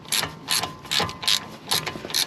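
A tool clicks steadily as it loosens the front brake caliper bolts on a 2014 VW Passat, with a 7mm Allen key in use; the close, loud ratcheting bursts repeat about twice per second.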